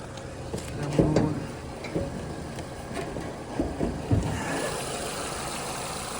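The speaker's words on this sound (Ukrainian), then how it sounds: "Під капотом працює такий двигунчик. Двигунчик працює дуже-дуже гарно, тихенько, м'якенько" A 2010 Renault Megane III 1.6-litre petrol engine idles quietly and evenly nearby, a low steady hum with a few faint knocks and handling noises.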